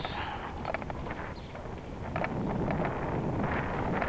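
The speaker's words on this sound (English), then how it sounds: "you've got a bit of a south wind, it feels like" Strong wind buffeting an outdoor microphone, a loud steady low roar with gusting surges and no clear speech.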